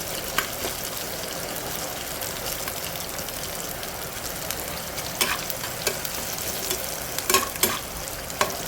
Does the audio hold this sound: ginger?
yes